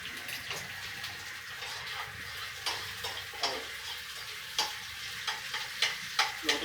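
Clams cooking in a pan for adobong halaan, a soft, faint, watery bubbling sizzle with repeated light clicks and knocks that grow more frequent toward the end, and no speech.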